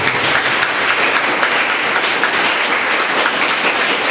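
A congregation at a Tulu-language Eucharistic Mass claps together, a dense, steady wash of applause lasting several seconds without pause.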